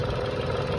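A Tata Nexon engine idles at low RPM with a steady, dense, continuous rumble heard close up for under a second.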